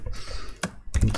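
Computer keyboard typing during a multibody dynamics lecture, a few close bursts of key clicks with a short pause between them and no talking.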